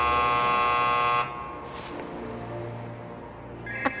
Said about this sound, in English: A buzzer, I think